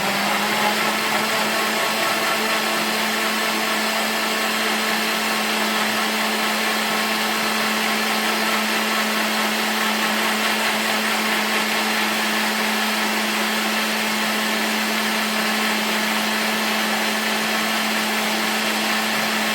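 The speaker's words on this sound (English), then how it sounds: "we use the liquefy button so it can be nice and fluffy and creamy." A blender runs on its liquefy setting, puréeing tomatillo salsa verde with no cilantro, parsley or garlic, giving a steady, loud motor whir with a strong constant hum that holds unchanged throughout, alone without voices.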